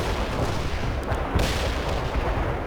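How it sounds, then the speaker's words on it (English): Heavy artillery bombardment in a video game strike: a dense, continuous rumble of booming explosions and gunfire fills the whole stretch, loud and low with a sharper blast near the middle, no voices. "Heavy artillery strike fire. Look out. Fire mission confirmed. Bombard the target coordinates."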